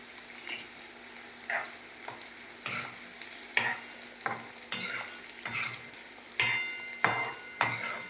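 Onions fry with green chilli in a pan for a garlic curry, a soft sizzle broken by repeated sharp scraping strokes of a spoon stirring at a loose, uneven rhythm.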